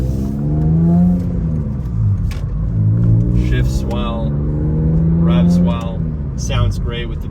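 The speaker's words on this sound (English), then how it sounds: "Sounds great with the Billy Boat exhaust setup." BMW E46 M3 cabriolet with the S54 engine and a Billy Boat exhaust revs and pulls through gears on the road, a steady rising and falling engine drone under intermittent talk.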